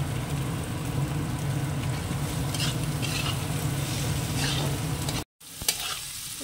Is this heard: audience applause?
no